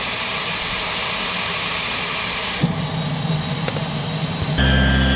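An Aerus Lux Guardian C154E vacuum cleaner with leaky vents runs on high with a loud, steady whine and rushing airflow, shifting tone partway through and again near the end.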